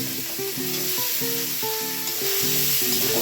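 Eggs go into a pan of sizzling fried spices, producing a constant hiss of frying beneath a steady tonal hum.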